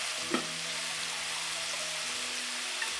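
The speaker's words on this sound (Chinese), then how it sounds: "我会再拿一个铁锅，倒一点点的油，千万别多" A small amount of oil sizzles in an iron wok, a faint, steady, quiet crackle of frying with a brief tap near the start and no voices.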